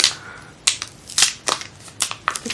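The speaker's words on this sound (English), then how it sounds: "So let's just unwrap this device, if we can." Crinkly plastic and paper packaging from a Nothing Phone 4A Pro being unwrapped, heard as several sharp rustling bursts and tears spaced irregularly, close and fairly quiet with no talking.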